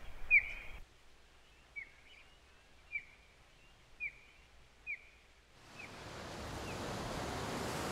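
A broad wash of ocean surf on the Chilean coast rises and holds, steady and fairly loud, after a quieter stretch of repeated short chirps.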